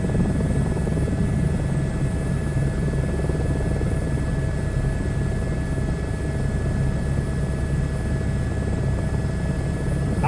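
A helicopter in Microsoft Flight Simulator 2024 gives off a steady, loud rotor and engine drone that holds constant and close throughout, with no voices.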